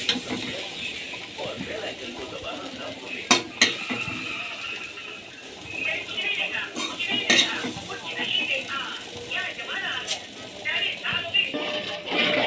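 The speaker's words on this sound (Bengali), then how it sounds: "এবার ভালো করে নেড়ে নেব।" Metal spoon stirring vegetable khichuri in a cooking pot, with repeated scraping clinks of utensil against the pot and soft sizzling, plus a few sharper clanks, heard close up under background speech.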